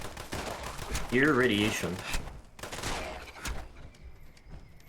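Rapid gunfire from a newly acquired gun in Fallout 76, a dense crackling burst mixed with game sounds, while a voice speaks over part of it.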